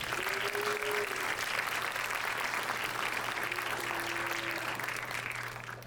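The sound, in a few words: audience applause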